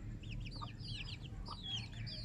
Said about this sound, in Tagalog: malalaki na ang aking manok